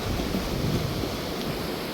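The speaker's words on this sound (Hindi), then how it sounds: "और बहाव देखिए कितना तेज़ है, कितना भयंकर बहाव है यहाँ पर।" The Ganges at Rishikesh in flood after mountain rain, with fast rushing water and high rapids, gives a loud, steady roar with no break and no voices.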